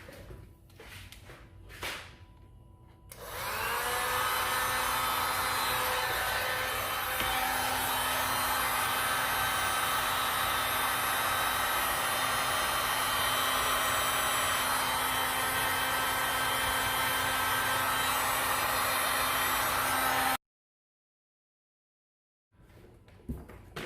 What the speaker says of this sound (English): slide our heat shrink over, and we're going to warm it up and